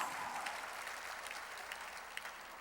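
A church congregation applauding during a worship service, a continuous, even roar of many people clapping together, soft and distant in a large room.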